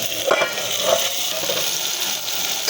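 Gongura leaves hit a pan of frying ginger-garlic masala paste for a gongura mushroom curry, giving a steady close sizzle with a few soft stirring clinks.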